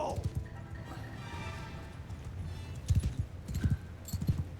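Horses' hooves clip-clop during a battle in the video game Mount & Blade II: Bannerlord, soft and fairly distant at first, then a few louder rhythmic hoofbeat bursts toward the end.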